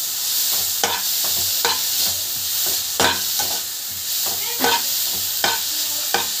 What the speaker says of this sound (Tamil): கேரட் போட்டுட்டு நல்லா வந்து வதங்கணும்.